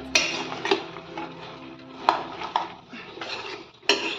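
Chopped vegetables coated with turmeric for aviyal being stirred in a metal pot, with a spoon scraping and clanking against the sides in irregular knocks, close and moderately loud with no voices.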